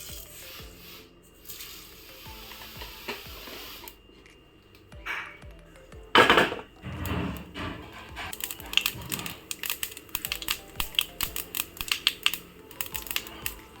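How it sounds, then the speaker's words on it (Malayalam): Mustard seeds splutter in about two teaspoons of hot coconut oil, starting with a loud burst of crackling, then a rapid, irregular run of sharp pops and snaps that grows busier over time. "കടുക് പൊട്ടിയിട്ടുണ്ട്."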